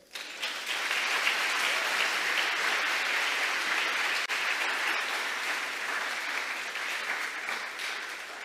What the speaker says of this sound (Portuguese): Dá para você aplaudir o Senhor?